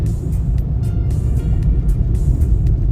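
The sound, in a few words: car driving, Redzen's vehicle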